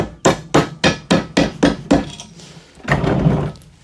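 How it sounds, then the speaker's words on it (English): A soft hammer taps a pin out of a Honda 250X ATV part: about eight sharp, evenly spaced strikes, close and loud, followed by a brief pause and a rougher scraping knock. "tapped it with a soft hammer"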